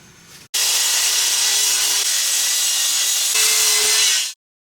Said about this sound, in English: start cutting that down to size